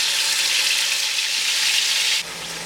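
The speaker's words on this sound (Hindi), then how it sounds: "यहाँ पे मैंने हाफ कप तेल लिया है और इसमें आप मैरिनेटेड चिकन ऐड करेंगे।" Marinated chicken pieces frying in about half a cup of hot oil give off a loud, steady, close hiss that drops off sharply near the end.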